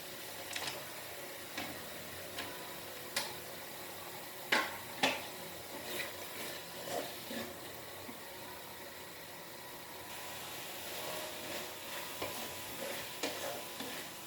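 Green peas are stirred into mushroom chilli frying in a pan, giving a faint steady sizzle broken by scattered scrapes and clicks of a spoon against the pan, with a few louder knocks midway.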